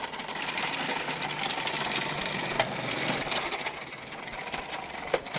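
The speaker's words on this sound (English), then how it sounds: "We put it right through our food processor through the small feed." A food processor shreds carrots fed through its small feed tube, a steady, close mechanical whir and grinding with occasional sharp clicks.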